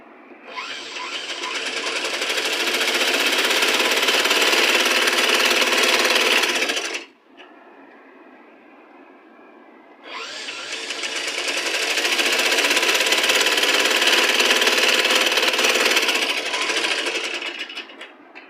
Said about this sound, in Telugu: నేను నార్మల్ మిషన్తోనే వేస్తున్నాను, నార్మల్ పాదంతోనే వేస్తున్నాను.